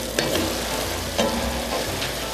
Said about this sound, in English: Give it a good mix, and the salt will help sweat the onion out too.